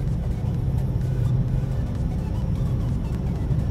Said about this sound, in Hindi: मैं थोड़ा आपको वीडियो दिखाने के लिए थोड़ा तेज चला रहा हूँ।